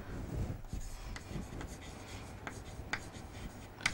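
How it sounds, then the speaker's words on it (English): Pen or chalk writing on a board during a lecture: close, scratchy strokes and short rubbing scrapes in an irregular rhythm, with faint taps between them. "So I am going to write"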